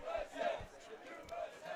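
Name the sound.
football student section chanting USA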